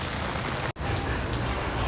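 Steady rain pattering on a surface, broadband and continuous, with a brief cut near the start; no voices.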